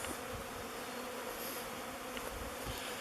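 A swarm of bees enters a log hive, their dense continuous buzzing humming steadily and close, with no voices over it.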